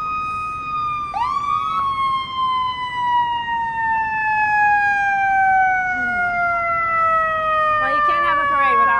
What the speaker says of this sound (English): Well, you can't have a parade without lots of sirens.